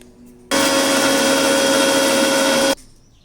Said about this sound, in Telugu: ఫస్ట్ మనం కచ్చా మ్యాంగో చాక్లెట్లని గ్రైండింగ్ చేసుకోబోతున్నాం.